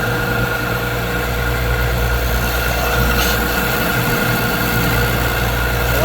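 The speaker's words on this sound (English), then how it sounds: "So I'm going to turn on my belt sander" A belt sander runs continuously while shaping a wooden bow handle, a steady loud motor hum and abrasive whir that holds constant throughout with no voices.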